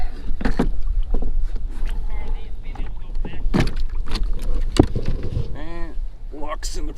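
An Old Town Predator pedal-drive kayak is lowered and set down with knocks and a splash in lake water, amid hull bumps and creaks, with voices nearby.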